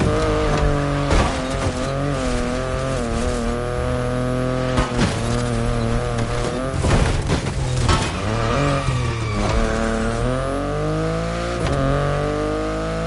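A BMW i8 hybrid sports car drives in the racing game The Crew Motorfest, its engine droning loudly and steadily throughout with shifting revs and brief tire squeals, no voices over it.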